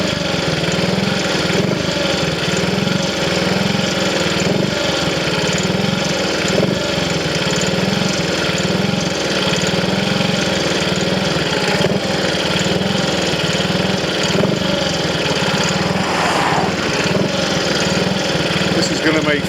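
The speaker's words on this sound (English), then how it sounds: "at least the engine's running very well" A Triumph Tiger Cub motorcycle engine, freshly rebuilt and retimed, idles throughout with a constant low rumble and even vibration, loud and close, with faint talk mixed in.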